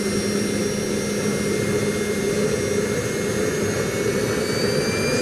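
A kayak fitted with an engine warms up, giving a loud, steady roar with a deep rumble and a high whine that holds level from start to finish, with no voices.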